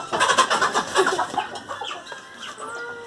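Chickens cluck on a farm, a run of close, busy clucks and short squawks that are loudest early and then thin into softer calls, with a faint engine-like hum behind them and no speech.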